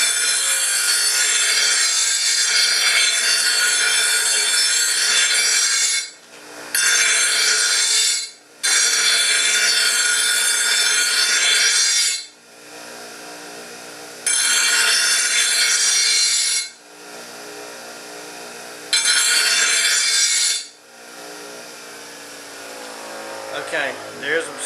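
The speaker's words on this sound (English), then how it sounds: "before you run the bench grinder as well" A bench grinder sharpens a steel lawn mower blade, giving a loud, bright grinding roar in several long bursts broken by short gaps, ending with quieter scraping.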